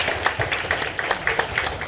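An audience at a Korean book concert and author meet-and-greet applauds with dense, steady clapping that is fairly loud and fills the short moment without a break.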